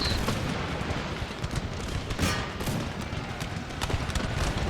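Musket volleys and artillery fire crackle in an Empire Total War (Darthmod) battle, a dense, continuous rattle of overlapping shots with occasional louder booms and no voices.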